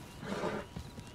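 Horse in Red Dead Redemption 2 gives a short whinny with a few hoof clops, moderately faint and close, over a soft game ambience.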